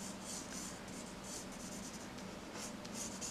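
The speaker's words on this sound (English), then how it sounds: "So I'll show you with the pencil." Pencil drawing on paper, a close, soft scratchy scribbling in short bursts as fish shapes are colored in, quiet and continuous with no talk.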